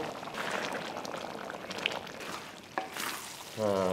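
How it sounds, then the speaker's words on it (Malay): Kerutuk daging curry with potatoes stirred in a pot, a soft, steady bubbling simmer with faint sizzling and scraping, quiet and close, ending with a brief tonal clatter. "Kita kasih kacau dia sampai kentang tu masak."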